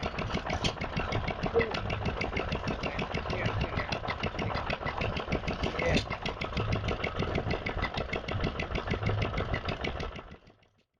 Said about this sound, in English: Nice little Wolseley WD engine, 1953, very common of course, see loads of those, driving a little Lister pump.